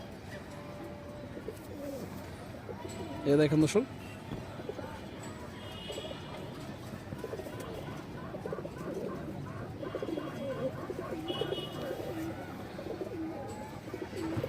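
A pigeon coos steadily in soft, low rolls beneath someone talking, with a brief louder knock partway through.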